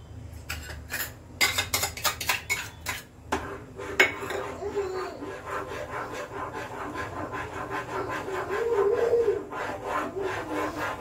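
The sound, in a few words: stirring milk with almond paste in a pan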